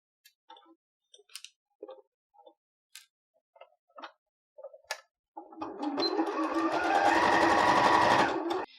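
Scattered small clicks and taps, then a sewing machine backstitches a kids' leggings hem in one steady, close whirring run of about three seconds.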